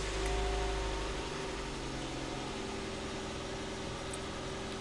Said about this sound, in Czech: Teď si motor nastartujeme a necháme přibližně půl minuty běžet